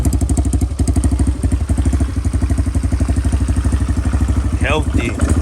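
A 150cc four-wheeler ATV engine runs steadily after a repair and tuning, with a fast, even percussive putter close by; a short whistle-like sweep is heard near the end.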